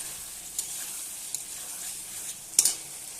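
Fish and potato curry sautés in a pan with a soft, steady hiss, punctuated by a few brief clicks of a spoon, the sharpest near the end.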